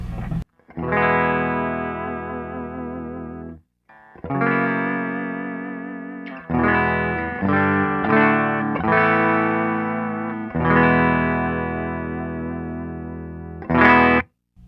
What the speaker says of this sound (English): that guitar sounds like this on the bridge pickup